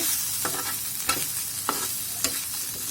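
Loitta shutki, dried Bombay duck fish, fries in hot oil with a steady close sizzle, while a spatula scrapes and stirs through it in a few sharp strokes about every half second.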